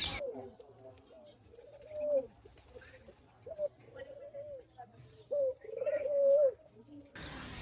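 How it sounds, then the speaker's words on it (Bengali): Spotted doves on a rooftop coo in repeated soft, low phrases at fairly close range, with short pauses between calls over a faint steady hum. "এই পাশে আমাদের ঘুঘু পাখিগুলো ডাকাডাকি করতেছে"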